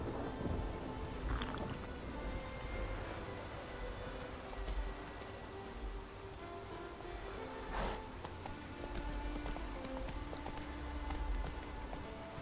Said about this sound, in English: It was sunny and nice, and then all of a sudden just thunder and lightning.